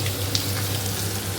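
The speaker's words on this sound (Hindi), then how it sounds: "भुन रहा है परवल और मिर्च।" Pointed gourd and chilies sizzle and crackle softly in hot oil, a steady close frying hiss.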